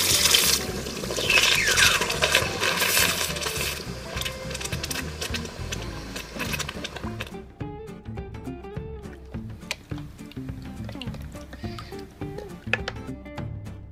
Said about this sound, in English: I carefully dunked the steel tube into a bucket of cold water.